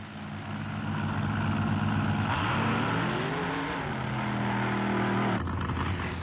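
A Chevrolet-powered altered drag car on a 1923-style altered chassis, around 1,500 horsepower, makes a run at an NMRO Lima event: a loud, close engine roar that climbs and shifts in pitch, holds, then drops away near the end.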